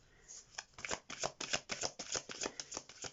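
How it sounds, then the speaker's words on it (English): Tarot cards being shuffled by hand, a rapid run of crisp riffling bursts in a steady rhythm, close up and with no talking. "Let's get the energies of the tarot cards going. And we'll start shuffling."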